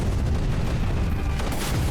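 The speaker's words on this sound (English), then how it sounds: "And explosions! Everyone loves explosions though." Explosions go off in the strategy game Creeper World 3, a dense, loud, continuous barrage of booms and crackling blasts. No voices.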